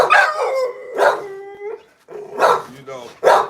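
Several aggressive dogs bark and howl in loud, overlapping bursts, with a long drawn-out howl in the middle and sharp barks returning toward the end.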